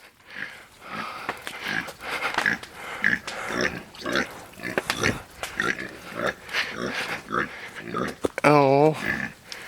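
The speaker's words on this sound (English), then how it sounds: "So, where's that baby pig?" A baby pig on a homestead near a burned barn oinks and sniffs close by, with short grunting bursts and a brief squeal near the end, mixed in with people's voices.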